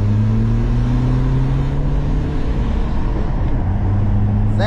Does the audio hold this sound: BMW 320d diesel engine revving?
yes